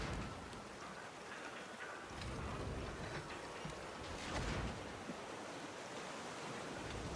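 Steady rain falling in the video game Raft, a faint, even hiss of drops with soft surges, continuing without pause.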